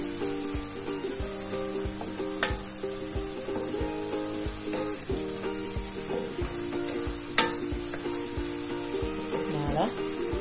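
Curry-spiced smoked pork chops stirred in a pan, with a soft continuous sizzle and rhythmic scraping of a utensil against the pan, fairly quiet, with a couple of sharper clinks and a low background hum.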